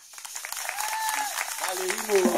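Concert crowd at Kreyol Factory applauding, a dense wash of clapping mixed with cheering and raised voices, loud and close throughout the short burst.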